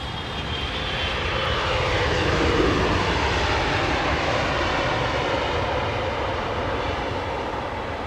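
A 200 freighter aircraft at London Heathrow, its engines a loud, broad roar that swells over the first seconds and stays strong and sustained to the end, with no voices.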